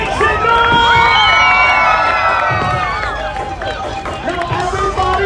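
A loud crowd at a live street performance in New York City cheers, shouts and whoops continuously, with children's voices and a constant babble of excited chatter throughout.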